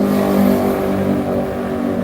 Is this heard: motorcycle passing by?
yes